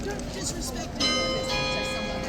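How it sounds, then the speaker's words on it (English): A bell at Horse Guards in London rings out with sustained tones over a busy crowd of talking voices in the yard, the ringing growing louder partway through. "There's the bell"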